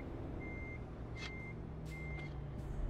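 A truck in Euro Truck Simulator 2 sounds its reversing alarm, three evenly spaced beeps over a low engine hum, with brief hissing bursts between them and no talking.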